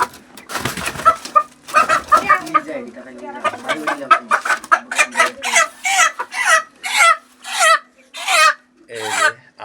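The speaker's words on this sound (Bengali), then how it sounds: "এই যে আরেকটি মোরগ" Home-raised rooster and chickens cluck and call in a series of close, loud bursts, growing more rhythmic toward the end, over a faint steady hum.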